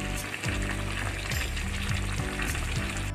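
Pumpkin cooking in a pan with a little water and salt, a steady loud sizzle and bubbling hiss that runs the whole time with faint scraping of stirring, no talk.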